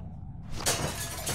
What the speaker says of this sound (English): Use the bat to shatter that window so you can reach in